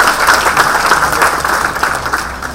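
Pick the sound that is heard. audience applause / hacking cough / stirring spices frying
audience applause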